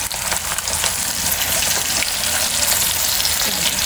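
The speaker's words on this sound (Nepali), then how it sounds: "मजाले फ्राई हुन्छ" Chicken wings fry in rice bran oil with a steady, dense sizzle, loud and close, crackling continuously without pause.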